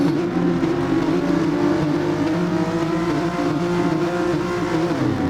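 Several race car engines rev loudly together at a race start at the Red Bull Ring, a steady, continuous roar, with no talking.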